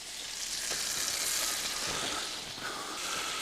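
Walleye fillets frying in a hot skillet, a continuous bright sizzle and crackle that swells slightly midway, close up with no talking.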